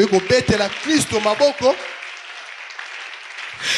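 Church congregation applauding and cheering in acclaim of Christ, a short burst of broadband clapping beneath a preacher's voice that fades into a sustained crowd wash and then rises again at the end.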